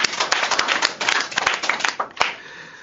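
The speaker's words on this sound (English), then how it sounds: "So let's give all of them a grand round of applause" Audience at a medical education award ceremony gives a steady round of applause for the winners, many hands clapping densely and continuously at a moderate distance with no talk over it.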